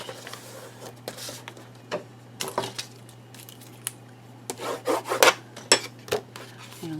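Paper burnished over a pocket on a mini album page: soft, close rubbing and scraping strokes in irregular bursts against a low steady hum, growing busier and louder toward the end.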